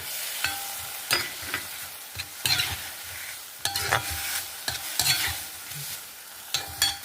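Potato and fenugreek leaves stirred and roasted in a pan, with a steady sizzle of frying under repeated scraping strokes of a spatula at irregular intervals, close and moderately loud, no talking.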